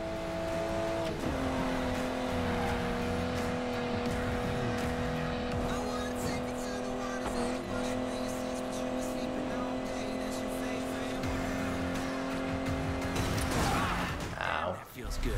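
A racing car engine in the video game Need for Speed Payback drones steadily and loudly, revving higher near the end amid some mechanical clatter.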